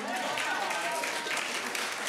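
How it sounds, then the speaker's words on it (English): An audience at a Friday Night Fights show applauds actress Deborah Van Thorn, a dense wash of clapping heard briefly alongside voices. "Oh my God, give her a round of applause"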